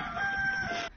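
A voice imitates a hen's clucking call in a single short burst, close and fairly loud, as city visitors try to mimic farmyard chickens on a hillside farm.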